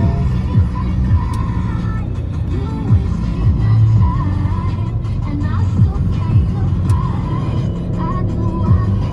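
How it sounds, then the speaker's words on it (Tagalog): A car rolls past on the road, a loud, steady engine rumble and tire noise lasting throughout, heard from inside a nearby vehicle while people talk. "Dahan, may kotse."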